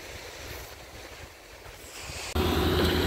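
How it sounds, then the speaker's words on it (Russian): Waves surge along a cold seashore near a river mouth, a steady broadband wash mixed with wind buffeting the microphone, growing abruptly louder and fuller partway through. "Шум волн"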